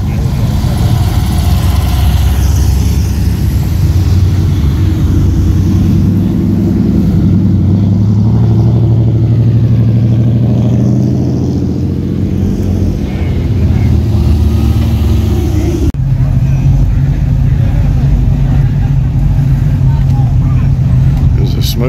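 Really old classic cars at a concours d'elegance climb a small hill, some struggling, their engines droning loud and continuous as a voice talks over them throughout.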